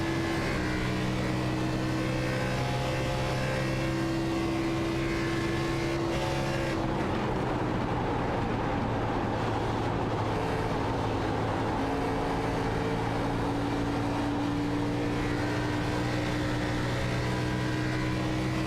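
A race car engine in the iRacing simulator at Texas, a loud, steady buzzing drone whose pitch dips and shifts midway as the throttle eases off and comes back on through the turns, with no talking over it.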